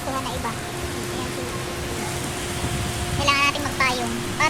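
Heavy rain pours in Hong Kong during an amber-to-black rainstorm warning, a dense, continuous hiss, with people talking over it.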